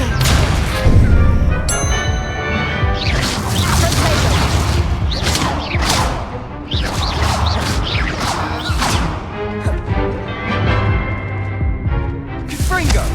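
Confringo fire spell explosions in the Hogwarts Legacy video game, a dense run of loud crashing blasts and whooshes over game music and effects, continuous and busy throughout.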